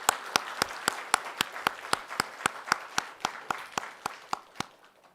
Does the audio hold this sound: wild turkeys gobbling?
no